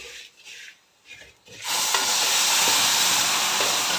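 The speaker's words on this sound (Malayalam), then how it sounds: "ഇനി ഇതിലേക്ക് തിളച്ചുകൊണ്ടിരിക്കുന്ന പാല് നമുക്ക് ഒഴിച്ചു കൊടുക്കാം" Boiling milk poured into a pan of reddened ingredients for offering payasam: after a few quiet clattering moments, a sudden loud rushing hiss and sizzle bursts in and holds steadily to the end.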